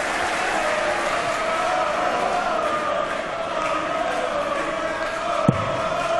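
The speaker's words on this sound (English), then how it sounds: "He's going the right way about it with a 180, his first of the match. That's got the crowd even more on side." A darts crowd at the 2015 European Darts Trophy cheers and applauds a maximum 180, a dense, steady roar of clapping and shouting that holds at a constant level throughout, with a single sharp knock near the end.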